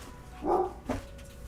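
A dog gives two short barks close by, the first fuller and the second sharper, in an otherwise quiet room.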